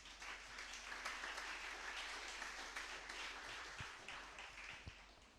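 A church congregation applauds and cheers in acclamation of Jesus Christ, a steady, dense wash of clapping and voices that holds throughout at moderate distance, with a few sharper claps near the end.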